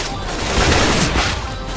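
Rapid pistol gunfire in a video game, dense overlapping shots forming a loud continuous burst across the whole moment, with no clear gaps between reports.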